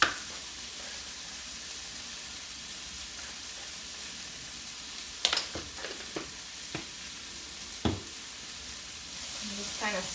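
Corn stirred in a pan with chili powder and cumin, a soft steady sizzle with a few sharp scraping clicks from the utensil, quiet and close.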